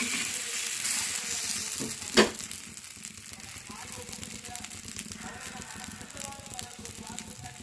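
A dosa fries in oil on a pan, giving a soft, continuous sizzle close by, with one brief sharp clatter early on.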